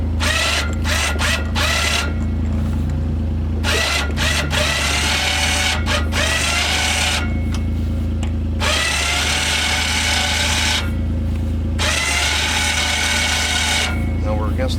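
A Warn 4000 winch on a 2020 Kawasaki Mule FXT Pro Ranch model reels in cable with a loud, steady motor whine and mechanical grinding that surges and eases in several bursts, with someone talking in places.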